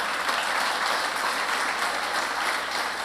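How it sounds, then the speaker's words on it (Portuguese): A church congregation applauding for Jesus during a worship service, dense sustained clapping from a large crowd at an even level throughout. "Se essa palma é para Jesus, aplauda."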